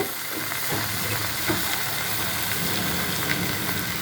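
Rice tipped into a hot pot of frying spices for khichuri, giving a dense, even sizzle up close with faint stirring scrapes, no talk over it.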